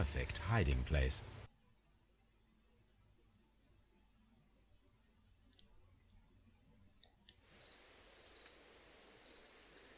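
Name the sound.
crickets chirping at night in Sherlock Holmes video game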